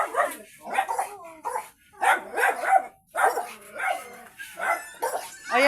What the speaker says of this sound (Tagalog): Mas maraming aso dito.